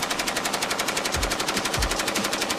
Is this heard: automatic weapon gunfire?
yes